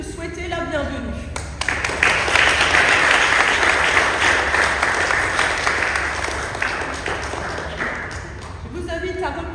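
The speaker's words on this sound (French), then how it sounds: "on va t'applaudir pour te souhaiter la bienvenue" Warm applause from a church congregation welcoming a new member at a Protestant Sunday service, sustained clapping that swells and fills the room for several seconds before tapering off.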